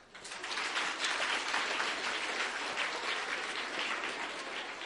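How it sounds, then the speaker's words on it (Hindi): Applause from a mostly student audience at a career fest, a sustained wash of many hands clapping that swells in after a moment and holds steadily, somewhat distant and soft. "आप लोग ने मेरे लिए तालियां बजाई तो मैंने आप लोग के लिए बजवा ली।"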